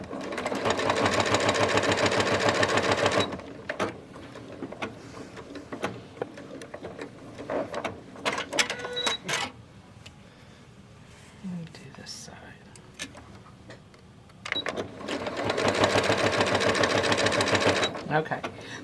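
Sewing machine stitching a quarter-inch lining seam on a vintage clasp wallet, running in two long steady bursts at the start and end with quieter handling and soft talk in between.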